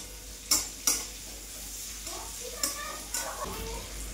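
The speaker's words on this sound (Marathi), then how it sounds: "ती पेस्ट परतल्यानंतर बघा, यामध्ये कांदा टाकून घ्यायचा." Onion tossed into a pan of chicken and ginger-garlic paste, frying with a soft sizzle while a spoon scrapes and clinks against the pan in a few sharp knocks and stirring strokes.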